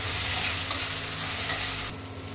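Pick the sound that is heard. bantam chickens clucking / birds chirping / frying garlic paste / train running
frying garlic paste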